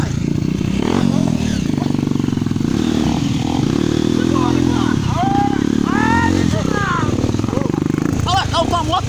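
A dirt bike labors along a muddy farm trail, its engine chugging and revving unevenly up close while the wheels churn and clatter. People talk and shout over the engine noise.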